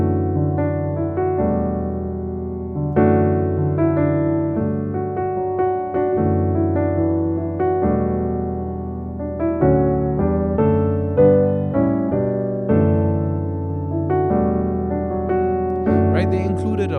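A piano plays an expansive gospel jazz chord progression of a worship song: rich, sustained chords change steadily over about seventeen seconds, played solo without any voices.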